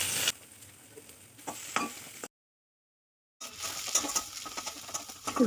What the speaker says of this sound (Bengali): তেলের মধ্যে আমি রসুনটাকে ফোড়ন দিয়ে দিলাম।